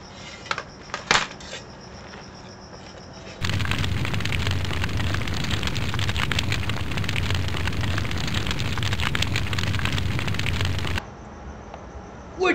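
A town burning in a battle scene of the Revolutionary War at Lexington and Concord, heard as a loud, continuous roaring crackle that holds for several seconds, with quieter rustling noise before and after.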